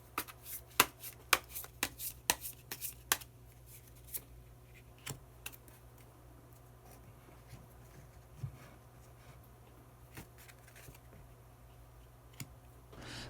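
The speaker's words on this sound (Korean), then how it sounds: "그러면 마지막으로 히든 카드 한 장 더 뽑아보도록 하겠습니다" Tarot cards being shuffled before a hidden card is drawn, heard as a flurry of crisp riffles and slaps early on that thins out into occasional faint taps over a quiet room.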